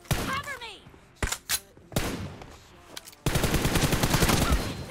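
Rapid bursts of gunfire in a shooting video game, crackling automatic fire with short pauses, then a sustained dense volley over the last second and a half, loud and close.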